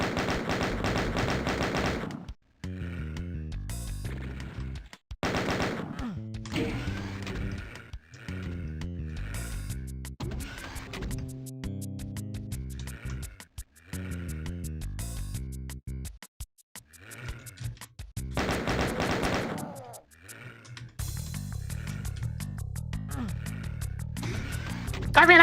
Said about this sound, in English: More sniping chain gunners